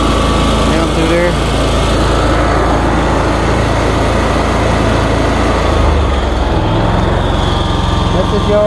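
A lawn mower engine runs steadily and loudly through the whole stretch while a yard is trimmed, a continuous close drone with talk partly buried underneath.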